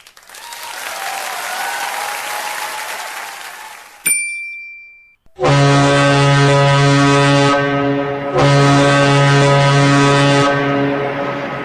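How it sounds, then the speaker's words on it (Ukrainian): A deep, loud ship horn sounds two long blasts, following a burst of clapping-like noise and a brief bright chime. "Так звучить корабель."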